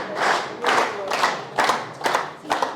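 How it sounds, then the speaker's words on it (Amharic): An audience gives a woman rhythmic bursts of clapping at a business training seminar, with several loud swells of applause in quick succession. "በደንብ አጨብጭቡላት"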